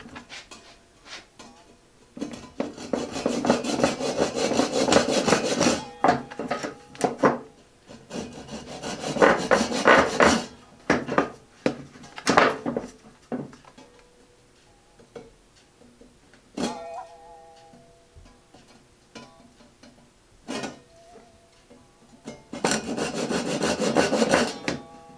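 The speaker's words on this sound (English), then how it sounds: "Then I'm going to cut it at a little bit of an angle, like 30 degree, 40 degree angle, something like that, just to score the edges." A hand saw cuts at an angle into the wooden edges of a table leg, with several bursts of rhythmic rasping strokes separated by pauses holding light clicks and taps.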